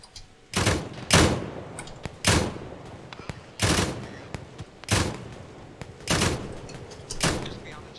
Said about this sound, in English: I hear a machine gun somewhere up there